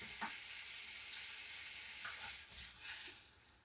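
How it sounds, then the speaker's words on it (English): A steak fries in a pan with a steady soft sizzle and occasional brief pops and crackles, quiet and continuous with no talking. "And we'll be cooking one steak at a time."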